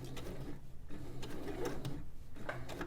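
A sewing machine stitches a bag, giving a quiet, busy whirr of needle strokes with short pauses and small clicks.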